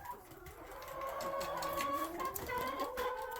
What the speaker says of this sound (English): That is chickens in behind.